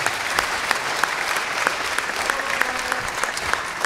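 A church Christmas concert audience applauds a music group from Lighthouse Church with steady, dense clapping throughout. It is close and fairly loud, with occasional sharper individual claps standing out.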